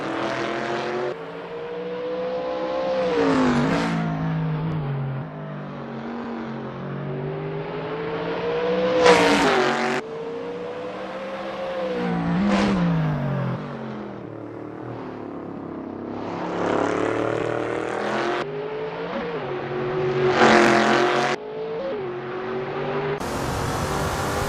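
Race cars on the Sonoma Raceway NASCAR circuit in the Assetto Corsa racing game, engines droning and revving continuously, with several sharp accelerations and cars sweeping past up close.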